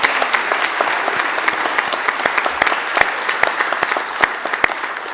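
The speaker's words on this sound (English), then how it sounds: "Let's give her a round of applause." Audience applauding at an event after a speaker is introduced, a steady burst of many hands clapping, fairly close and sustained for several seconds with no voices over it.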